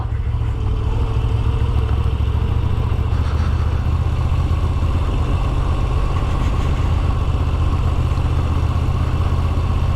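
A Moto Guzzi motorcycle engine runs steadily at a loud, low, continuous rumble with no break and no talking.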